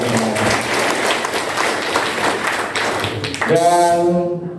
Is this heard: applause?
yes